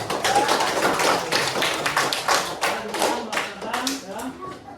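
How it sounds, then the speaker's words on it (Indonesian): A school class claps hands together in a classroom, a close, busy patter of many individual claps, uneven and lively, with voices audible underneath. "Kita sekarang Pak Guru kasih aplaus, tepuk tangan dulu."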